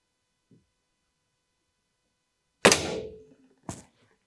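BSA Lightning spring air rifle discharging at a range: one sharp loud crack with a short decaying mechanical tail, followed about a second later by a second shorter snap, in otherwise near-total silence.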